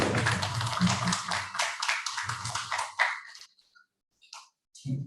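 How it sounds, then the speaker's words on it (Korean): A church congregation applauds during a university graduate-student worship service, a dense burst of clapping that tapers off and falls quiet before a few faint sounds return at the end. "우리 승리하신 주님께 영광의 박수 올려드립시다"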